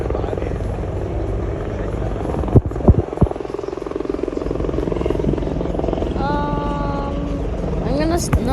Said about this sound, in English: Oh, the helicopter we saw earlier.